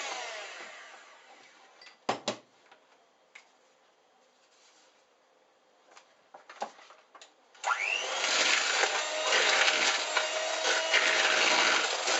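Chocolate brownie batter being mixed, first as sparse scraping and clattering bursts, then as a loud, steady whirring from an electric mixer for the last few seconds, with no voices.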